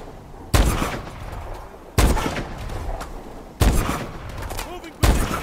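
Heavy gunfire bursts in a video game plane hijacking mission, four loud volleys spaced a second or two apart over a continuous roar of rattling fire, with faint shouted voices in the background.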